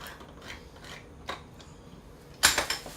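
A manual can opener working around a can of cooked corn in a kitchen, faint scattered metallic clicks and scrapes, ending in a louder, rasping crunch near the end.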